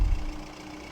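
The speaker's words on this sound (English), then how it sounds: "So we are using one of our older tractors," An older tractor engine from Farming Simulator 19 rumbles low and steady while driving, a brief, fairly loud drone with no talk over it.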